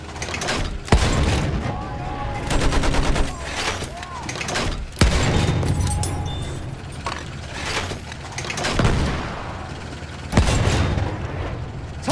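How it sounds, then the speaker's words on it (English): Enemy machine gun fire in the Battlefield 1 video game, rapid bursts rattling through a loud, busy battlefield mix with repeated booms and explosions, a voice talking over the din. "There! Enemy machine gun!"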